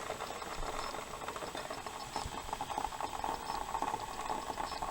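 Water coming toward a boil in a small cook pot on a homemade ultralight backpacking stove, a continuous low rumbling hiss with faint patter and rattle, steady and close, no one talking.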